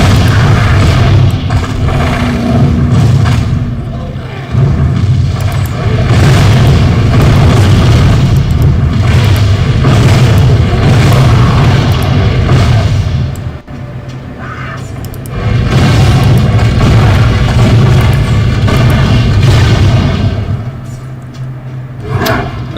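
Heavy cannon blasts from the blast cannon weapon in the Torchlight 2 video game, a dense run of booming low explosions that continues for stretches with brief gaps, loud and close, with no talk over it.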